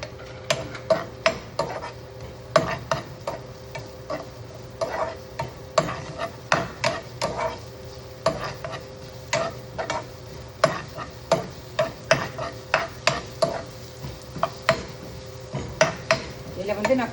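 Capsicum being stir-fried in a pan: a spatula scrapes and taps against the metal in a brisk, regular rhythm over a faint sizzle, continuing steadily without speech.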